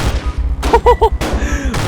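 Sharp popping bursts from a modified big-bike motorcycle exhaust backfiring in GTA V, several loud pops in quick succession over a throbbing engine, with a brief burst of voice or sound effects among them.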